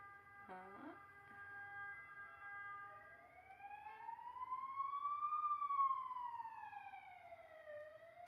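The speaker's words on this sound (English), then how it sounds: "this is the ambulance, come on!" An ambulance siren wails with a rising and falling pitch sweep, fairly close and steady, with a brief burst of noise near the start.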